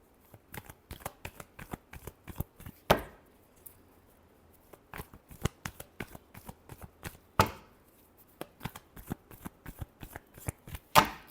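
Tarot cards being shuffled by hand in quiet room, close riffling and slapping bursts in an irregular rhythm with a few sharper, louder shuffles and brief pauses.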